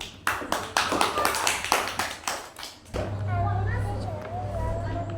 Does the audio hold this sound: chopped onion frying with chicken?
no